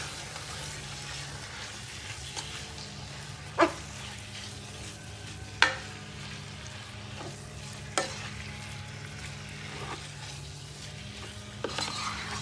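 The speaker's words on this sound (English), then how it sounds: "Let's give this a stir" A spoon stirs seasoning through lasagna sauce cooking in a pan, with a steady low sizzle and a few sharp clinks against the pan spaced several seconds apart.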